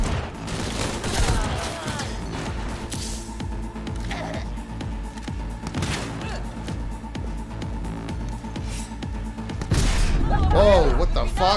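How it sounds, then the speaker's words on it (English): Gunfire in the video game Cyberpunk 2077, repeated loud shots and bursts through walls across the whole stretch amid booming combat effects, with voices talking over parts of it. "Firing through the goddamn walls."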